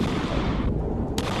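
Gunfire from a gun in a horror video game, a dense burst of loud, close shots running together with rumbling reports.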